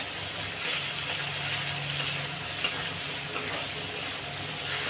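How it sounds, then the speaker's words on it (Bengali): Potatoes fry in oil in a pan for a spicy crab curry, giving a steady, moderate crackling sizzle throughout with one brief sharp clink partway through and no talking. "আলুগুলোকে দিয়ে একটু ভালো করে ভাজা ভাজা করে নেব।"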